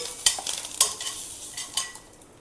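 Turmeric powder being stirred into a cooking pan while making a Navratri festival prasadam, with a few sharp scraping strokes of a spoon against the pan over a soft frying sizzle, close and without speech.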